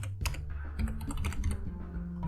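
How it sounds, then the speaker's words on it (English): A computer keyboard being typed on to enter a command during an Arch Linux installation, a quick run of crisp, close keystroke clicks with no speech. "You need to type the command pacstrap"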